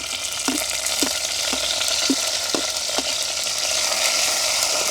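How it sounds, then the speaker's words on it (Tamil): Mustard seeds and fenugreek temper in hot coconut oil for a crab curry, producing a loud, close, continuous sizzle with regular soft stirring knocks about every half second. "நாங்கள் தாளிக்கிறதுக்காக கொஞ்சமாக தேங்காய் எண்ணெய் விடுவோம்"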